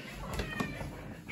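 A house cat meows while home alone, giving a couple of short, fairly close calls over faint room noise.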